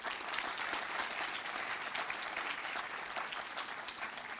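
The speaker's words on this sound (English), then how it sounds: "one last applause again for this Jagran Film Festival" A large crowd at a film festival's inaugural ceremony keeps up a continuous, even roar of clapping throughout, sounding somewhat distant and soft, with no speech over it.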